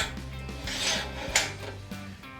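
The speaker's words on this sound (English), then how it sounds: "So we can simply release the clamp and we can pull down on that stabilizer." The side outrigger stabilizer on a manual material hoist being lowered by hand, giving close scraping and rubbing metal sounds with a couple of light knocks.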